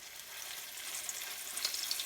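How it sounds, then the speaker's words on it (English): Spinach patty lowered into hot oil, frying with a soft, steady hiss and fine crackle that grows slightly brighter with a few sharper pops toward the end, close and fairly quiet with no talking. "lower the patty into the oil"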